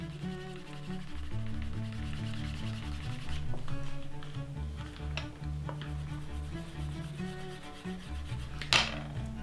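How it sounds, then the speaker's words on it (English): Canvas rubbed briskly against a leather edge to burnish wax into it, a continuous dry scraping friction with repeated strokes and a few sharper scuffs, close up and unaccompanied by speech. "I'm just rubbing the wax on and then trying to burnish that wax in, melt it in almost."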